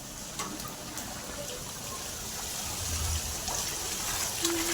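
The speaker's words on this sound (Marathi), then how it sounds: "तिकडं खूपच पाणी झालेलं आहे बघ" After heavy rain, rainwater flows over the ground in a steady, even rushing wash that stays fairly faint and distant and swells slightly toward the end.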